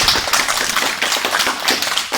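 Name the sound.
applause at a judo club ceremony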